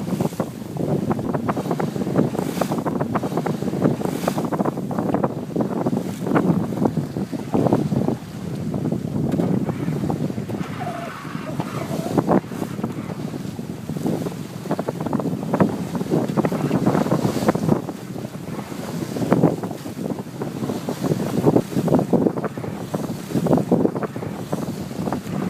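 Steady wind rushing past a sailboat on starboard tack with a wheel pilot steering, loud and continuous gusting and buffeting over the microphone with water sounds underneath for the whole stretch.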